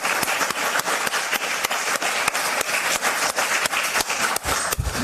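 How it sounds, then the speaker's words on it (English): An audience gives a round of applause to a conference planning committee, dense and continuous clapping from a room full of people, loud and sustained for the whole span. "Please give them a really wonderful round of applause."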